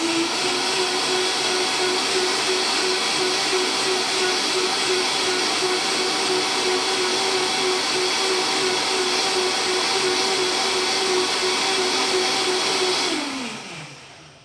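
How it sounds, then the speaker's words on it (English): A blender runs steadily, whirring loudly as it purées a creamy plant-based carbonara sauce made from soaked nuts, holding a constant motor drone for about thirteen seconds before winding down and stopping. "Blender is full here of my creamy sauce here, you see? Liquid but creamy. That's what I want. I will blend it even a little bit longer."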